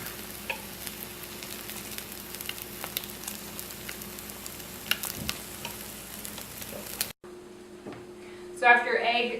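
Egg frying in a cast iron skillet, a steady close sizzle running throughout with brief clicks, cut off partway before a quieter stretch with scraping.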